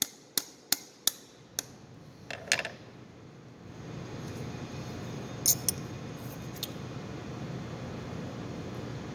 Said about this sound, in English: Just tap it on through.